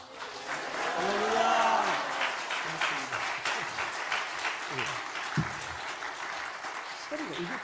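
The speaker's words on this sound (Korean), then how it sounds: "우리 나오실 때 할렐루야로 뜨겁게 우리 박수로 같이 환영하겠습니다." A church congregation at an evening revival service applauds warmly, dense clapping swelling early and then continuing steadily underneath a voice over the sound system.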